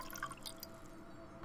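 Liquid is poured in a puzzle scene of the Grim Legends 3: The Dark City video game, heard as quiet, close dripping and trickling splashes over about a second and a half, with no speech.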